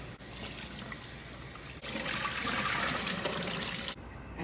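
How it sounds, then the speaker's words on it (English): Water runs and splashes as beef short ribs and beef bone are rinsed in salted water for Cambodian pho, a steady close trickle that swells into a fuller flowing rush. "So we're washing beef short ribs"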